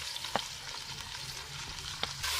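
Ginger, garlic and green chilies sizzle and crackle steadily in a hot pan, with a couple of sharp scraping stirs, close and fairly quiet.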